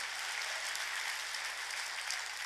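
A church congregation at a Korean sermon bursts into dense, sustained applause, a steady wash of many hands clapping at an even volume for the whole stretch, with no voices over it.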